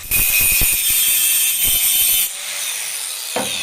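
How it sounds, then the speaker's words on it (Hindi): Angle grinder finishing a gasless MIG weld, a loud continuous abrasive whine with rough scraping bursts, easing to a lower steady run partway through before a final knock. "अब मैं जरा आपको ग्राइंडर से फिनिश करके बताता हूं।"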